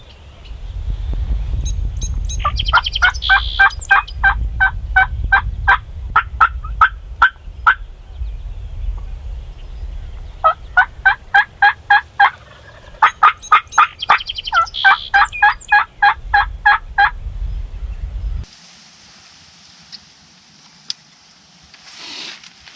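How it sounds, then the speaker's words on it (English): A wild turkey gobbles repeatedly in loud, rapid rattling bursts on a windy day in New York, with low rumbling in the background and a quieter stretch at the end. "I have no idea why that gobble sounded so close or where that turkey was"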